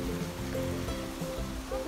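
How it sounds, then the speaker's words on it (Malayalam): A small stream rushes steadily along, fed by an overflowing pond above it, during a light drizzle on a nature walk. The water makes a continuous, close, even wash with no pauses. "അപ്പോൾ ആ കുളം നിറഞ്ഞു ഒലിച്ചു വരുന്നതാണ് ഈ തോട്."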